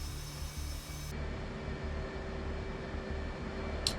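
An F/A-18C Hornet jet taxiing in the DCS flight simulator gives off a steady, loud engine roar and hiss. A broad high whine fades partway through, and a short sharp click comes near the end.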